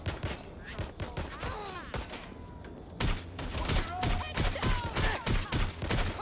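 Rapid bursts of gunfire from the video game Watch Dogs: Legion, with repeated shots clustering into loud volleys that grow denser in the second half, heard alone without talk.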